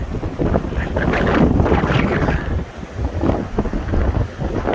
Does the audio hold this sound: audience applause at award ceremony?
no